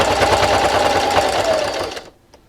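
A sewing machine runs steadily, stitching a scrappy fabric dish scrubber with a loud, even, rapid rattling hum for about two seconds before stopping abruptly into near silence.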